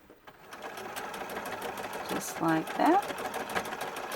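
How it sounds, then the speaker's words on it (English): A sewing machine stitches across the top of a folded pocket on a blue coat, a steady rapid mechanical whir running throughout while a person speaks briefly over it. "now I'll go ahead and sew this one since I have it all folded here and ready"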